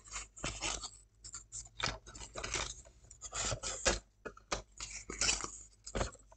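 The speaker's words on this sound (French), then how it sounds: "maintenant, on marque bien les plis" Paper being creased firmly for a round scrapbooking mini-album, a tool repeatedly scraping and pressing along the folds in close, rhythmic rasping strokes with brief pauses, no talking.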